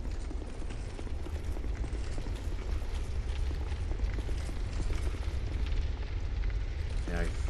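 Constant low roaring rumble of a blue-flame fire in Dark Souls 2, dense and steady throughout with faint crackles on top.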